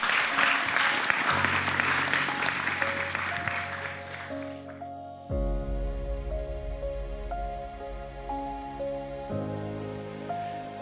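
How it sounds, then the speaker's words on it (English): Applause from a church gathering rings out over the first few seconds, then fades as sustained music with held organ-like chords takes over. "Can we give her a round of applause?"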